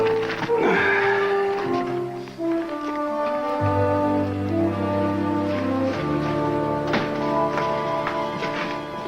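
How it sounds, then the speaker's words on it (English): A horse's whinny rises and falls near the start of a western film scene, followed by a sustained orchestral music bed with low held tones and a few soft knocks. "Horse."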